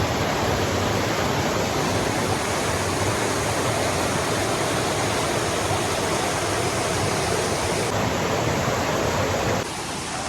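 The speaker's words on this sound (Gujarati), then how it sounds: "હવે હું તમને લઈ જઈશ પાણીનો જે ધોધ પડે ત્યાં" Hathni Mata waterfall near Vadodara, a dense, loud, unbroken roar of falling water heard up close, steady and broadband for the whole stretch with no voices.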